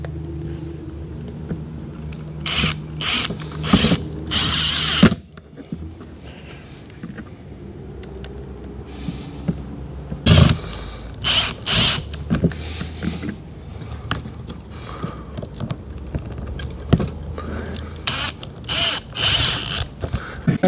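A power drill drives screws into a vehicle roof in short, loud whirring bursts separated by pauses, with clunks and handling noise between runs.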